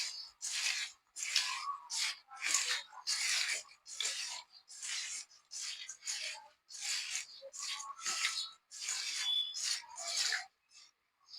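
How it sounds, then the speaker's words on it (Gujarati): Chillies are mixed by hand with salt, turmeric and lemon, producing repeated close, moist rubbing and rustling strokes in an irregular rhythm, separated by short quiet gaps. "હાથથી સરખી રીતે આ રીતના મિક્સ કરી દેવાય"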